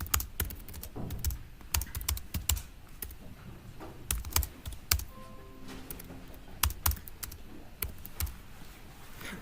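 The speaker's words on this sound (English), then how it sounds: "if I bang on the keyboard here for a second" Rapid, uneven clacking of computer keys being hit hard in quick bursts, close and crisp, with short pauses between flurries.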